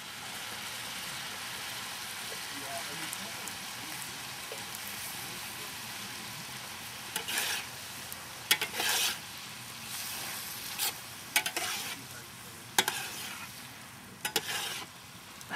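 Food browns in a frying pan with a steady, quiet sizzle throughout, and louder bursts of stirring and scraping break in during the second half. No one speaks.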